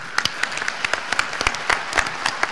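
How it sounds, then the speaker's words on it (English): At a university graduate commencement ceremony, the audience applauds the donors with a short burst of crisp, scattered hand claps from a crowd in a hall. "Let's applaud for them."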